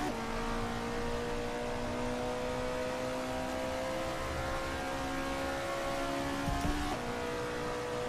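An Alfa Romeo 33 Stradale engine in Assetto Corsa revs at Monza, a steady droning note rising slightly in pitch with a brief shift near the end, heard alone and fairly loud.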